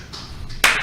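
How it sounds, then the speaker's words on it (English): A few brief hand claps, the last one sharper and louder, close by in a small setting. "I only had to clap a little bit"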